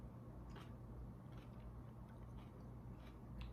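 Someone bites into and chews a dry yellow Trinidad Scorpion pepper, giving a few soft, close crunches at irregular intervals over a very quiet background.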